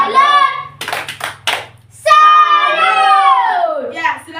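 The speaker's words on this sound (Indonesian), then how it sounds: "tepuk salut dulu untuk Chris" A class of children performs a rhythmic clapping chant in a classroom, their sung voices bracketing a short burst of sharp, quick claps in the middle.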